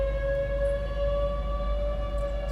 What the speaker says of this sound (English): tornado sirens are going off in Ainsworth